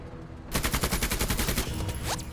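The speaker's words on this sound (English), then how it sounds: "And then I'm gonna shoot the machine gun" Rapid machine gun burst in a military video game, a steady stream of sharp, loud, evenly spaced shots lasting about two seconds after a brief quiet start.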